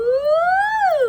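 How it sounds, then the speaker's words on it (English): A single rising and falling siren wail, clear and close, lasting about a second with no other sound around it. "Ambulance sound."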